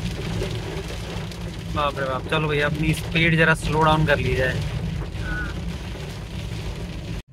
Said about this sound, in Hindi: ओ क्या ताबड़तोड़ बारिश आई है